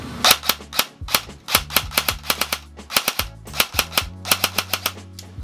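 Airsoft gun from a mystery-box unboxing firing in rapid bursts, a dense run of sharp snappy shots with brief pauses between strings, loud and close, with no talking.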